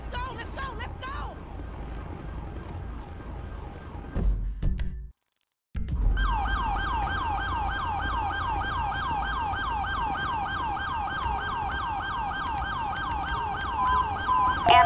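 An ambulance siren in GTA 5 wails with a rapid, steady electronic yelp. It is close and loud, and engine and road noise run under it. It cuts out briefly midway, then resumes strongly, and voices talk over it.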